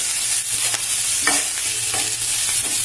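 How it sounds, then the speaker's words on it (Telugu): Fenugreek leaves fry in hot oil with a steady broadband sizzle, broken by a few brief stirring scrapes and clinks, close and fairly loud, with no voices. "ఇలా చక్కగా వేగనివ్వాలి ఆయిల్."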